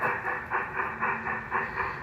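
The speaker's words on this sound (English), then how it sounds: "So this is Anita's engine." A garden railroad model train engine runs steadily outdoors, its rhythmic chuffing pulses repeating about every quarter second over a constant hum, close and moderately loud with no talking.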